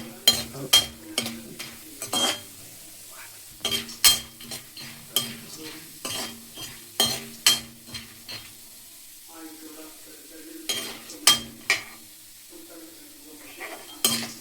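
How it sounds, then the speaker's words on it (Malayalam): Oil sizzles softly beneath repeated sharp scraping and clinking of a spoon stirring split chickpeas in a metal pan, in an uneven rhythm, with brief speech. "വറക്കാനായിട്ട് നമ്മൾ ഇടുന്നു എണ്ണയിൽ."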